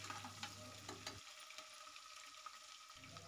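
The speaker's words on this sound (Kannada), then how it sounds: "ಇದು ಫ್ರೈ ಆಗ್ತಾ ಇದೆ." Onions fry in a pan in a home kitchen, giving a faint, steady low sizzle with a few soft crackles.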